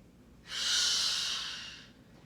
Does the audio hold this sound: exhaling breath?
yes